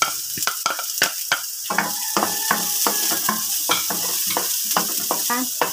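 Onion sizzling in a pan for a chicken dish, a constant hiss broken by frequent sharp clacks and scrapes of a utensil stirring against the pan.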